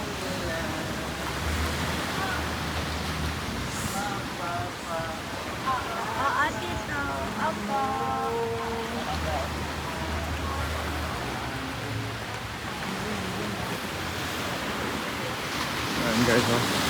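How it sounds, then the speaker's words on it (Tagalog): Surf breaks along the shore of Boracay after Typhoon Bavi, making a steady wash of waves with a light breeze, while people talk close by over the constant rumble. "Kita nyo yung alon dito na sa gilid."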